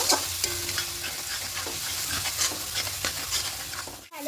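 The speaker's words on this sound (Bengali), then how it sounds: "খুব ভালো করে সব কিছু কষিয়ে নেব" Potatoes and peas sautéed with ground spices and Kashmiri chili powder in a pan, a dense continuous sizzle with scraping stirring strokes throughout, ending in a brief dip.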